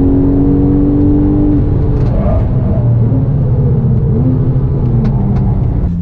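A Porsche 911 type 997 with an H-pattern manual gearbox revs on a track, a loud steady engine drone close by with pitch rising and falling between gear changes.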